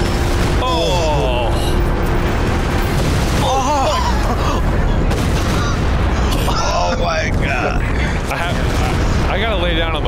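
A B-4 howitzer artillery barrage in Company of Heroes 2 lands as a string of loud booms and bursts, heard under continuous excited voices talking and shouting.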